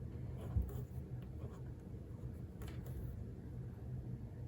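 Pelikan M605 fountain pen with a cursive italic nib scratching across paper in soft, close strokes, a quiet scritching texture over low room rumble.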